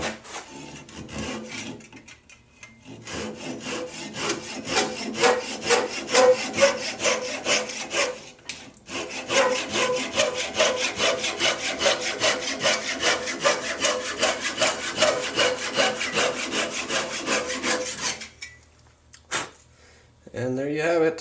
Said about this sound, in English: now I'm just gonna take my little dovetail saw and trim it off right down here